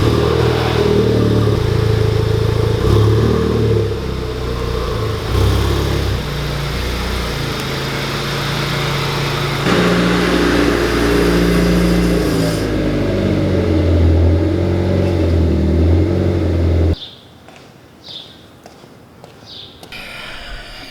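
Car engines running steadily and loudly in a garage area as cars are moved around for an EK Civic hatchback coilover job, the engine noise cutting off abruptly near the end, leaving quiet footsteps and small sounds.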